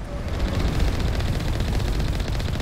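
Rapid, continuous bursts of heavy cannon fire in the video game Mass Effect 1, a dense booming rattle that stays loud and steady throughout with no pauses.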